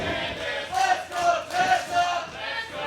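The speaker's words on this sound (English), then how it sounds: "And you can hear the crowd. They are completely divided." A wrestling arena crowd split between two women wrestlers chants and cheers in rising, falling waves, with dense massed voices filling the space and no single speaker standing out.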